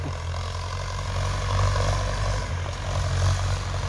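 Steady, loud engine drone of a Ford tractor plowing a rice field, continuous and close with a deep low rumble throughout and no talk.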